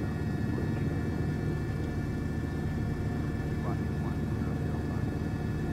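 A helicopter flies over Los Angeles County, its engine and rotor making a steady low rumble and drone that fills the whole stretch without a break.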